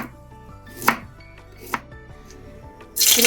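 A knife chops carrot, beetroot and a little cauliflower on a board, with two sharp distinct strikes and a scraping finish, near and clear with no talk.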